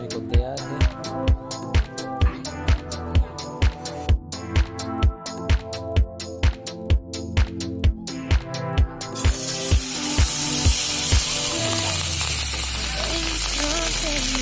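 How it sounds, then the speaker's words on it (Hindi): Pangas fish fillets start frying in a pan with a loud, dense, continuous sizzle over the last five seconds. Before that, a rhythmic, beat-driven music track plays with regular thumping pulses. "पंगास फिश फ्राई होने को तैयार है।"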